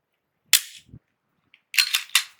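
A Glock or Canik pistol's ambidextrous slide release operated: a sharp metallic snap, a dull thud, then a quick cluster of crisp mechanical clacks, close and loud against silence.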